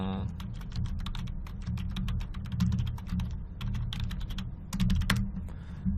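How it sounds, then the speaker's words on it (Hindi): Fingers tapping a Windows command on a computer keyboard, with rapid irregular clicking keystrokes close up, in quick bursts with short pauses. "जैसे कि विंडोज़ का एक कमांड मैं लिखता हूँ"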